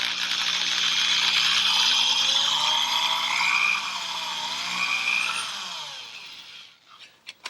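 A power drill bores steadily through a 5-pin lock, a loud continuous high whine with shifting pitch that holds for about six seconds, then the bit stops and a few sharp metallic clicks follow.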